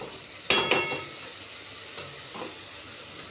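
Spoon stirring khichuri in a cooking pot, a few scraping and clinking strokes against the metal over a soft background sizzle, spaced irregularly and fairly close.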